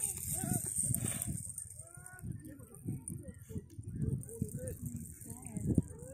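Chickens cluck and chirp in a scattered, uneven rhythm at close to moderate distance, with people talking at times over the birds.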